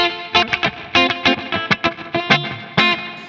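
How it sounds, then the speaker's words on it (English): An electric guitar played through a REVV Dynamis amp set to 7 watts for power amp distortion rings out in loud, crunchy chords and short stabs with pauses between, gritty and sustained. "You can also nicely overdrive the channel or get some power amp distortion by especially switching to 7 watts."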